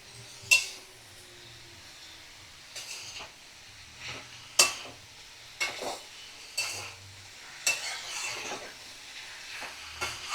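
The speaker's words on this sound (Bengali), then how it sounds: "আমি 5 থেকে 7 মিনিট চিংড়ির সাথে লাউ কষিয়ে নেব।" Bottle gourd and prawns fry in a pan over medium flame, with a soft low sizzle beneath spaced clinks and scrapes of a utensil stirring against the pan.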